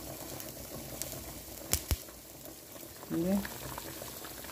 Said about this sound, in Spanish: Aquí estamos cocinando también huevos duros con papas.